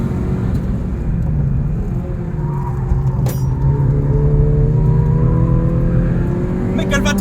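An engine-swapped Peugeot 106 drives hard on a race circuit, with a loud, sustained engine roar from inside the car that rises in pitch through the gears while people talk over it.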